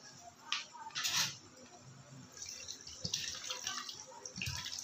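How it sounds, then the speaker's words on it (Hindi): Water is poured into a cooking pot in a home kitchen, a faint splashing and trickling with brief louder gushes and drips. "मैंने इसमें 1 लीटर जो है पानी ऐड कर दी है जी"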